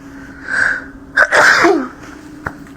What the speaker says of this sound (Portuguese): preciso espirrar